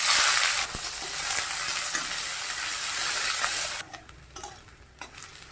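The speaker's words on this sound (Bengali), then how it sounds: "জিরা ফোড়ন দিয়ে দিলাম, তেজপাতা দিয়ে দিলাম, পেঁয়াজটা দিয়ে দিলাম।" Cumin seeds, bay leaf and onion frying in hot oil, a loud bright sizzle that drops sharply near the end to quieter scattered crackles and stirring.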